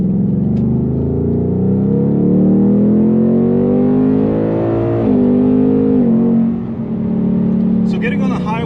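A 2021 Ford Mustang Mach 1 in grabber yellow accelerates onto a highway. Its engine drone climbs steadily in pitch, drops sharply at an upshift, then pulls again, loud and close from inside the car.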